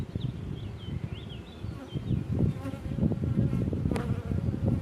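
A dense, steady buzz of many honeybees rises from an opened hive colony during a queen check, filling the scene up close and continuously without speech.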